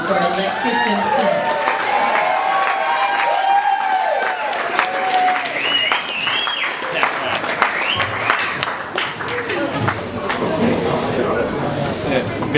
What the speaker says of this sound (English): Please, everyone give a round of applause for Alexis Simpson.